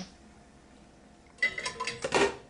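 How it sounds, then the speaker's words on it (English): A spatula mixes lentils and curry paste in a pot. A quiet stretch gives way to a burst of close scraping and clattering strokes against the pan. "Mix them all together, make the lentil soup"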